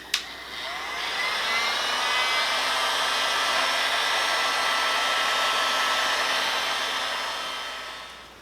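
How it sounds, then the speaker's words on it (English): A cheap heat gun blows hot air to heat a wooden bow, a loud steady whirring blast that starts with a click, holds even for several seconds, then tapers off, close and without talk. "So you can use any cheap heat gun, but I got this heat gun"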